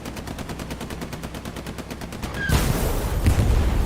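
Rapid machine-gun fire rattles in a steady fast rhythm during a Hell Let Loose battle, then a loud booming tank shot erupts into heavy, dense gunfire, all close and without talk.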